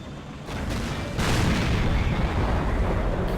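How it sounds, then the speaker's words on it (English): Tank cannon fire booms in a World of Tanks battle, with a deep, loud blast and heavy rumble that swells midway and keeps roaring over engine noise. "Let him keep shooting me because I know I can take the shots."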